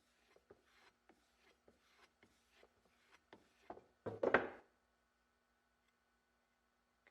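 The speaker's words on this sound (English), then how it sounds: "So I'll use my strop, put a little compound on there. Try to strop this blade." A knife blade is stroked along a leather strop dressed with compound, a series of soft, quiet rubbing swipes at a steady pace, growing slightly louder and longer toward the end before stopping.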